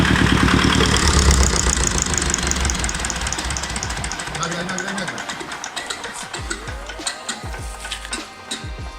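A loud Lister stationary engine runs with a rapid mechanical chatter, then, stopped with its decompressor, slows and sputters into separate irregular knocks as it winds down and stops.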